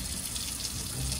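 Tap water runs steadily as it warms up for a bath, a close, even rush of flow filling the whole short moment with no voices over it.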